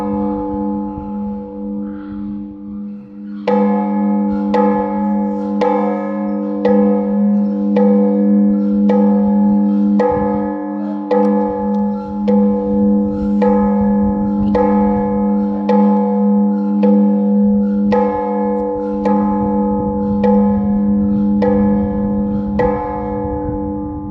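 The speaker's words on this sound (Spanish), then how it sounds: "Ahí vamos a poner las campanadas." Church bells ring in Sombrerete, Zacatecas, striking in a steady rhythm about every second and a half. Each strike has a bright onset and a long ringing hum beneath it, heard clearly at moderate distance after a quieter opening few seconds.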